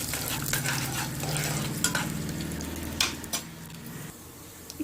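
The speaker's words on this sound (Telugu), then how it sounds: "మినప్పప్పు వన్ స్పూన్ జీలకర్ర మిరియాలు వేసుకొని ఇదంతా ఒకసారి ఫ్రై చేసుకోవాలి" Urad dal, cumin and black pepper frying in a hot pan for curry leaf rice: a steady, fairly loud sizzle with a few spatula scrapes, close up, with music playing underneath.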